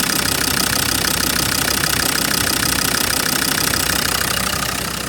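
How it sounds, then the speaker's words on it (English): A car engine with a leaking head gasket runs loudly and steadily up close, a rough rhythmic idle with a ticking mechanical knock repeating throughout. "Excuse the noise of the engine."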